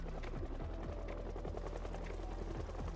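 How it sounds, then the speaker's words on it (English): Helicopter flying overhead in the zombie survival game Project Zomboid, a steady chopping rotor drone that fills the whole stretch at an even level with no talking. "Chopper's back."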